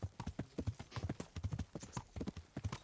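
A horse trots on in the medieval game Kingdom Come: Deliverance, its hooves clip-clopping in a quick, steady rhythm, close and clear, with no voices.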